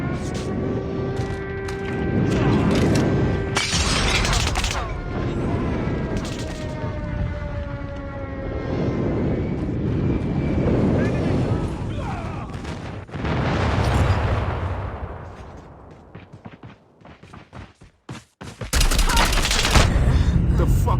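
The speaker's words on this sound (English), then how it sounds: "Friendly airstrike incoming." Friendly airstrike in Call of Duty Mobile, a loud sustained barrage of booms and rapid gunfire under tonal game effects, with a sharp burst of blasts near the end.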